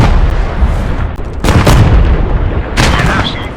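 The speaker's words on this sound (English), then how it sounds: "Artillery!" Loud artillery fire in a night-time urban battle in the PostScriptum war game, with sharp, close booms at about 1.5 and 2.8 seconds over a constant rumbling battlefield background.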